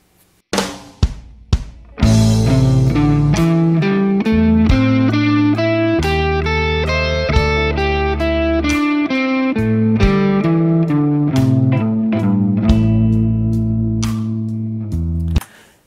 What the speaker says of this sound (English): if we take our pentatonic scale and play it to a backing track, it sounds like this